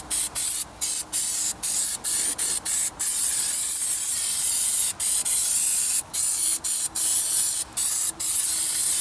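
An aerosol can sprays in a rapid series of loud, close bursts separated by brief pauses, including one long steady hiss in the middle, aimed at corroded battery parts on a John Deere 110 TLB backhoe. No one speaks.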